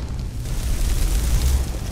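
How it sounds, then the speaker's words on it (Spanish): A fireball spell bursts in Skyrim, a loud low rumbling blast that swells after a brief lead-in and keeps roaring and crackling for about two seconds, with no speech over it. "Y ya es como una bolita de fuego."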